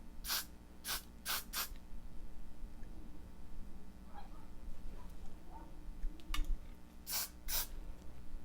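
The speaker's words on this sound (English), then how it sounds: "I'm going to add a little hairspray to make it stay." Short hairspray bursts during blow-dry styling: four quick hisses in a row, a pause with faint handling noises, then a few more sprays near the end.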